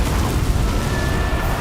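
An Incendio fire spell burst in the Hogwarts Legacy video game, a loud, dense roaring whoosh of flame with broad crackling noise held steady throughout, no voice over it.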